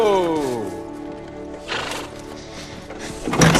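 Horses whinny and neigh in loud, wavering calls, the first long neigh sliding down in pitch, followed by snorts and shuffling, with a voice nearby.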